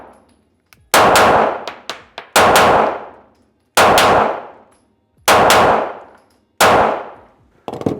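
Five loud Glock 17 Gen 5 pistol shots crack at a shooting range, spaced unevenly about a second or more apart, each with a sharp onset and a short ringing decay, plus faint clinks between them.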